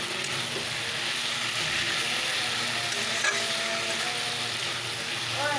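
A fish head frying in a pan of hot oil for a fish-bone chochchori, giving a constant dense sizzle and crackle with occasional small pops, close and steady throughout.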